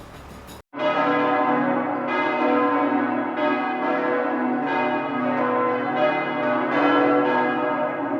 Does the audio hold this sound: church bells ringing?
yes